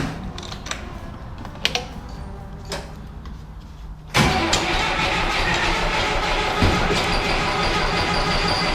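An old Zetor 7711 tractor engine cranks and catches at about four seconds, then settles into a loud, steady rumbling idle after a few quiet clicks and knocks.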